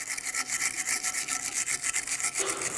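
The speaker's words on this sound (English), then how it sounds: "We'll use a wire brush for this." A wire brush scrubs a Ford Flex rear brake caliper bracket in steady, rapid back-and-forth strokes, a continuous close rasping scrape with no talking.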